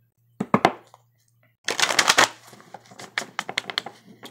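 Tarot cards being shuffled by hand in bursts, a quick riffle of slaps followed by a longer dense flurry and then a run of lighter, separate card taps, close and fairly clear with no talking.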